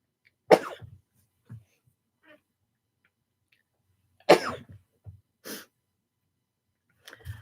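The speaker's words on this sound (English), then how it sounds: "I sneeze a lot" A person sneezes indoors, two sharp explosive bursts several seconds apart, the second followed by a quick breathy aftershock, with small sniffs and rustles in the quiet between and a short murmur at the end.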